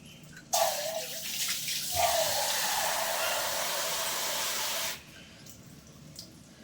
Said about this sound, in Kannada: ಬೇಕಾದಷ್ಟು ನೀರು ಹುಯ್ಕೊಳ್ಬೋದು.